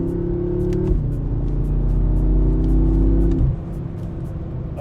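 A BMW M6 Gran Coupe engine pulls hard through the gears, a loud steady rising drone heard from inside the cabin with an abrupt drop in pitch at each shift.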